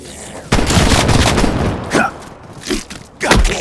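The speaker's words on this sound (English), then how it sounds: "Shotgun. Now we're talking." Heavy shotgun blasts in Call of Duty: Black Ops Cold War fire loud and close, a few seconds apart, each a sharp boom with a short tail, with a brief voice between shots.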